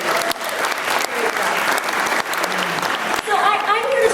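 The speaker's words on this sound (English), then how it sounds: "let's just give everybody a round of applause" An audience at a media panel in Binghamton breaks into broad, sustained applause that fills the room close and loud, with a few voices rising near the end.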